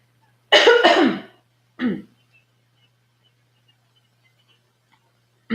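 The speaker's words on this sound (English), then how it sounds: "sorry, I have to cough, hold on" A single person coughs and clears their throat nearby, a harsh burst followed by a shorter second cough, then near silence with faint ticks.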